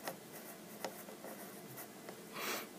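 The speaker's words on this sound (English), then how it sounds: "Let's go ahead and jot these down real quick." A pen moves quickly across paper in a quiet room, making faint scratchy strokes and small taps as short words are written down, ending with a slightly louder swipe.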